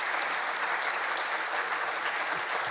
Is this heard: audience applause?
yes